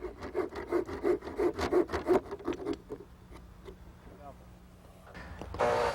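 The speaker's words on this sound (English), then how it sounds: "We'll finish it off with a handsaw." Handsaw strokes rasp through a 1x6 wood board in a quick, steady back-and-forth rhythm for about two seconds, then slow to a few scattered strokes before a brief louder rub near the end; close and fairly clear.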